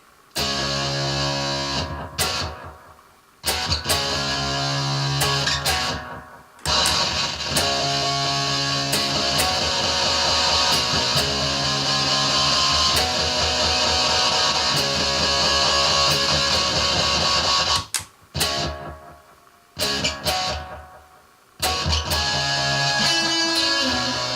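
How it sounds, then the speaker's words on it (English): Loud, dense electric guitar through distortion and delay pedals plays continuously with echoing repeats, broken by a few brief pauses. "let's hear some distortion"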